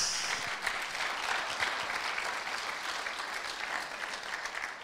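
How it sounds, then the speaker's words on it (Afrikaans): Church congregation applauding together for Jesus during a Palm Sunday service, a steady dense wash of many hands clapping that holds at an even level for several seconds. "Kom aan, klap vir Jesus."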